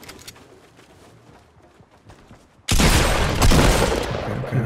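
Sudden loud gunfire in Fortnite Battle Royale breaks in after a quiet stretch, a dense rattling volley of repeated shots that keeps going to the end.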